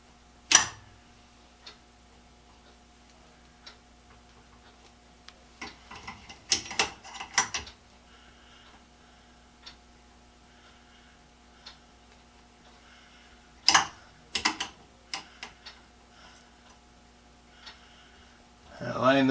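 A copper tubing cutter is cranked around a copper pipe for a shower valve manifold, giving bursts of clicking, ratcheting metal rasps separated by quiet gaps, close and fairly faint.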